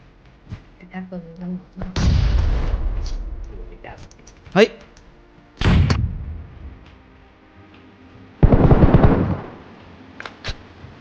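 Gunfire in the mobile battle royale game PUBG Mobile comes as a few sharp, loud bursts spread among stretches of talking and quieter game sounds.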